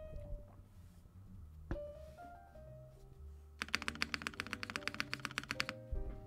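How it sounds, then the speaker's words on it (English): Mechanical keyboard with a GMK spacebar being typed on, a quick run of crisp, evenly spaced key clacks that starts partway through after a few quieter taps and lasts a couple of seconds, close to the microphone. "GMK spacebar definitely sounds better."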